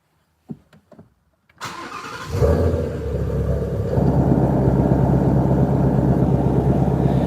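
A Ford Shelby GT350 V8 started in track mode: a few faint clicks, then the engine catches with a loud, close, deep roar that settles into a heavy, rumbling idle.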